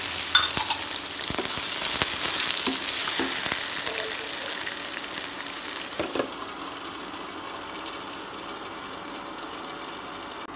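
Chopped potatoes and peas for kanda poha fry in a pan, a loud continuous sizzle with occasional clinks that softens and drops in level partway through.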